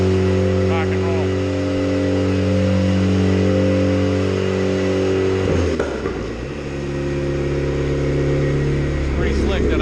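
A turbocharged H22-powered Honda Civic revs on a dyno, its loud engine droning steadily with stacked harmonics, then dipping and climbing again partway through, close and dominant, with a voice faintly underneath.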